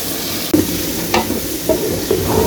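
Ingredients for khichuri fry loudly in a pot, a dense close sizzle interrupted by several scraping stirs and clanks of a spoon against the pan, with no talking.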